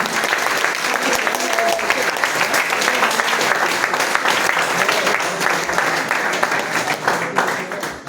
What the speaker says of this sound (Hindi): ताली में कंजूसी मत करिए